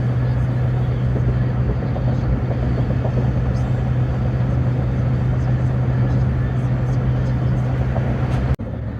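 A loaded car drives along rough roads toward Detroit, giving a steady interior engine drone and road rumble with a constant low hum that stays even until a sudden thump near the end.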